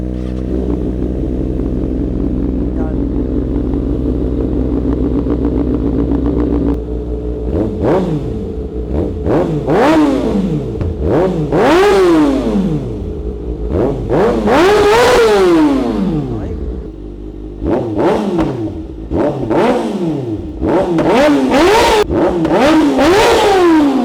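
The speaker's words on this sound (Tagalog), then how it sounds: "start na rin natin itong 2024 ZX6R" A 2024 ZX6R sport motorcycle engine idles steadily, then revs repeatedly in sharp, loud bursts that climb and fall, close by, with brief pauses between throttle blips.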